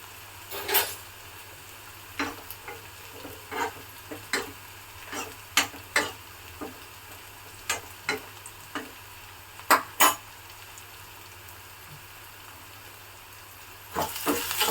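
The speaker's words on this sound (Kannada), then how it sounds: "ಅದನ್ನು ಫ್ರೈ ಮಾಡ್ಕೊಳ್ತೀನಿ ಇದರಲ್ಲಿ" Food frying in a pan for an egg gravy, with a soft sizzle under a series of sharp intermittent clicks and taps, likely stirring utensil contact, near and fairly quiet, no talk.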